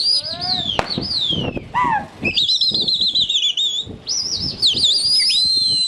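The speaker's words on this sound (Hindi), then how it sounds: "फिर से इनके कबूतर उड़े हैं" A flock of racing pigeons takes off in bursts of fluttering wingbeats during a rooftop pigeon-flying contest, with loud, sharp whistles gliding up and down over the flapping.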